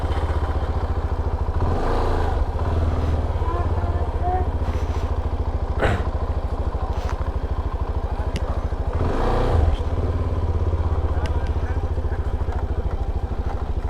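A CFMOTO motorcycle, a 300NK or 300SR, on a test ride, with a steady engine drone and rhythmic low pulsing, plus a few brief clatters and swells, while a rider speaks over it.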